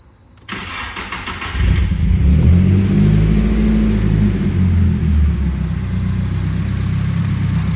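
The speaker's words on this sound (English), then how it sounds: "yeah, super tame at idle. Everything sounds very in sync since we refreshed the top end" A Nissan S15 Silvia with a refreshed top end cranks and fires, then settles into a steady, smooth idle with a deep, even rumble, loud and close with no talking.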